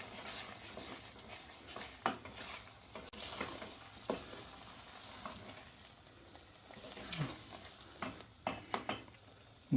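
Pasta being stirred in a frying pan, a steady sizzle and crackle of hot oil with scraping, clinking strokes of the utensil against the pan, close but fairly quiet, with no voices.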